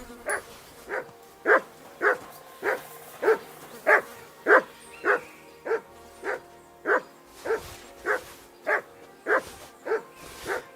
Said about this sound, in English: What is that bloody dog barking at?